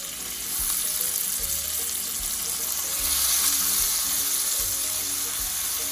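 Bitter gourd (ampalaya) goes into a pan with shrimp for stir-frying, raising a steady, fairly loud sizzle that swells midway, over faint low background tones.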